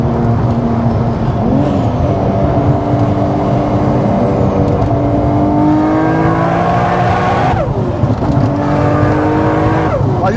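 A turbocharged JDM sports car engine revs hard and climbs in pitch through the gears, loud and close, with brief drops at each shift.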